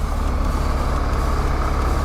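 City traffic with a bus close by, a dense, steady engine roar and road rumble heard from a motorbike rider's position, loud and continuous throughout without speech.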